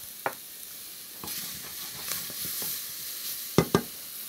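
Sausage softens in a pan with a soft, steady sizzle, broken by a few stirring scrapes and a pair of sharp clacks near the end.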